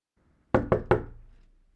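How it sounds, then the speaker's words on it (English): Three sharp knocks on a castle gate in a youth stage production of Macbeth, evenly spaced and loud, each ringing out with a short resonant decay into silence. "here's knocking indeed"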